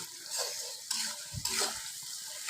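Onion with salt fries in a pan, a bright sizzle broken by a couple of stirring scrapes and a brief low knock, close and continuous.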